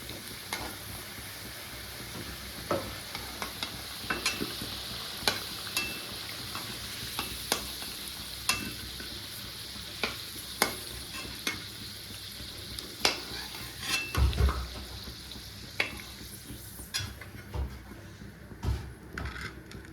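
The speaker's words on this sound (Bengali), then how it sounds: "আলুগুলো লাল লাল করে ভাজা হয়ে গেছে, এবার তুলে নেবো।" Potatoes fry in oil for a mutton curry, a quiet continuous sizzle with scattered utensil clicks and a dull knock near the end, no talking.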